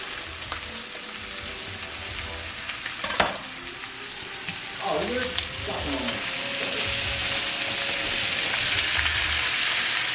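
Butter sizzling in a hot pan beside a T-bone steak, a steady loud frying hiss throughout with a few brief scrapes and knocks, no talking.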